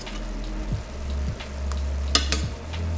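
Shrimp sautéing in a pan for a habanero jerk dish, a steady close sizzle with soft scraping and clatter as they are flipped, a few sharper clicks near the end, no talking.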